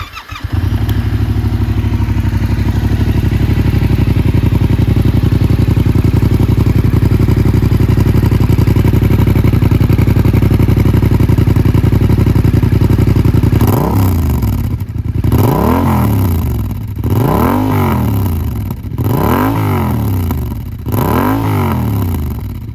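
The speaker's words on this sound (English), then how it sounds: "there it is, Arrow exhaust replacing the original Yamaha exhaust" A 2023 Yamaha Tracer 7 motorcycle fitted with an aftermarket Arrow exhaust idles loudly and steadily, then is revved in about five sharp throttle blips, each rising and falling, close and alone.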